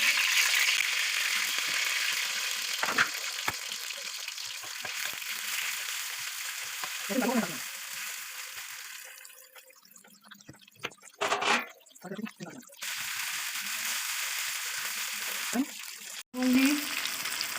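Marinated chicken pieces for chicken jalfrezi frying in a pan, a steady broadband sizzle that drops away midway as pieces go in, with stirring clatter and a voice speaking over it.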